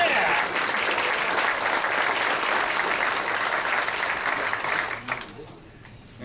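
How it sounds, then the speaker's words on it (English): An audience applauds loudly and steadily for a volunteer named Elizabeth at a leadership talk, the clapping dense and sustained before thinning out sharply near the end. "Give her a round of applause."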